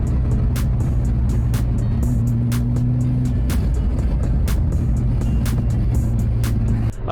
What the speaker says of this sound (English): It's kind of idling really rough and the RPMs dip